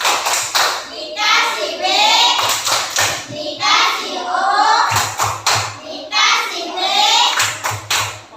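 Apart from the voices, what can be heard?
classroom children clapping hands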